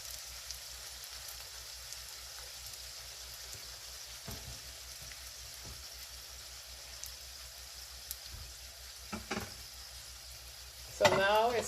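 A Jamaican beef patty fries in a pan of oil, giving a steady, soft sizzle that runs throughout, with a few brief knocks and a louder burst of bubbling near the end.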